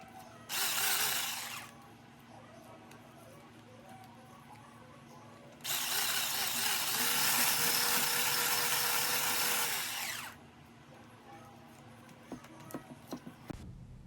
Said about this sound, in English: just whipping it and getting some air into it